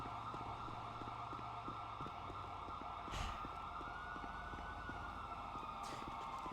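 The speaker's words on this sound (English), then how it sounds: "Two sirens. Something's happening." A steady wailing police siren from a GTA roleplay game sounds at a distance, holding a continuous tone under a faint low rumble, with a couple of brief sharp noises along the way.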